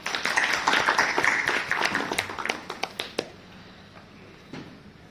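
An audience at a university study-abroad panel event at a Hyatt gives a short round of applause, a dense patter of clapping that thins to a few scattered claps before fading into quiet room tone.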